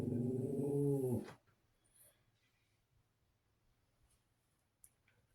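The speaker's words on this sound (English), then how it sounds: "That's my fearless watch pup." A young watch puppy gives a brief, close growl lasting about a second, then falls quiet, leaving near silence with faint scattered clicks.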